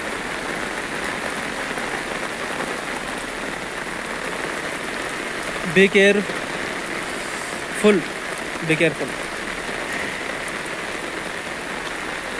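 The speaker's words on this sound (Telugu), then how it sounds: "చూడండి కింద ఎంత వర్షం పడుతుందో." Heavy rain pours steadily outside an apartment building in Hyderabad, a dense, constant hiss seen from above, with a few brief voices cutting in partway through.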